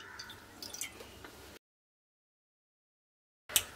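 About one and a half cups of water poured into a pot on a gas stove, a short splashy trickle lasting just over a second, then silence and a brief sharp clink at the end.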